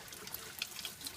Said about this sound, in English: the water drains out of this bottle, because there's a couple of little holes here